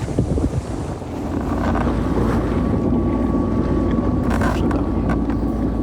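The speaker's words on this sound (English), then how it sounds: "we were probably doing as much motoring or motor sailing as sailing" A sailboat motor sailing across Bass Strait carries a steady low engine drone beneath heavy, gusting wind buffeting and rushing water, loud and continuous throughout.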